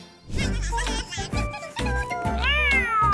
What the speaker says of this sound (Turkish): Yavru kedi.